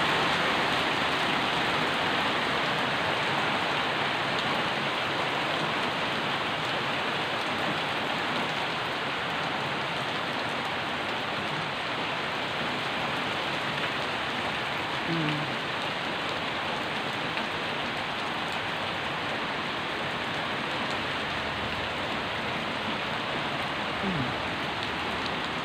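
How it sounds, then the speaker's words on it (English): Heavy rain falling at night, a dense, constant hiss of drops pattering on surfaces that stays even and fairly loud from start to finish, with no talk. "that rain is coming down and there is lightning there"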